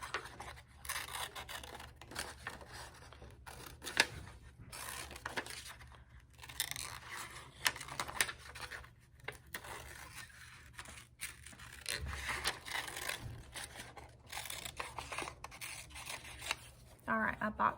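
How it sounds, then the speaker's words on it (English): Scissors snip and slice through paper during a children's art lesson, the paper turned as it is cut, giving irregular close crisp cuts and rustles over several seconds while a teacher talks. "Notice when I'm using my scissors, friends, that I turn my paper instead of my scissors"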